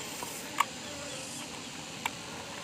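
Honeybees at an open hive with many drones, a soft, steady insect hum filling the air, with a couple of brief clicks or taps close by.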